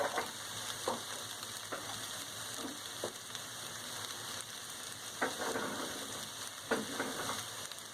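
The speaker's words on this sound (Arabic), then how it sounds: "ودابا غادي نضيفوا الدجاج ديالنا" Chicken hits a hot paella pan alongside shrimp and calamari and sizzles in a steady, crackling fry, broken by a few sharp spatters and stirring clicks. Close and fairly quiet, with no voices.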